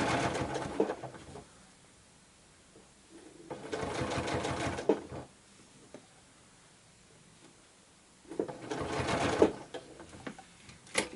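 A sewing machine stitches fabric along curved lines in three separate runs, each a steady rapid mechanical whir lasting a couple of seconds, with quiet pauses between them while the fabric is adjusted.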